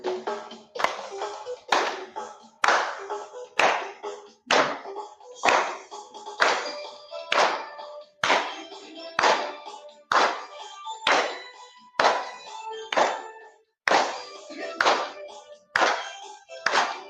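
Classroom children clap along while singing, a loud, strongly rhythmic series of sharp hand claps in a steady beat with sung voices ringing between them.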